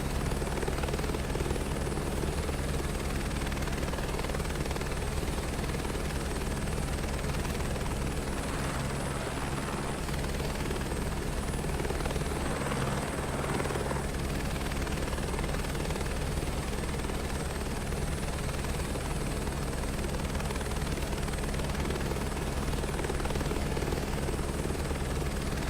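An aircraft engine in Microsoft Flight Simulator 2024 gives a dense, steady drone that holds unchanged and loud for the whole stretch, with no other sounds.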